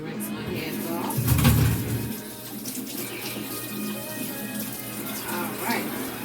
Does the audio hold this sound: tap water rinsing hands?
yes